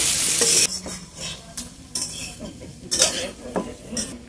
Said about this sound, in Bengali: এবার সব কিছু দিয়ে একসাথে ভালো করে মিশিয়ে নেব